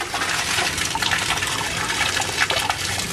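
Water gushes out of an Intex sand filter during its rinse cycle, a steady, loud, splashing rush of liquid that continues unbroken throughout.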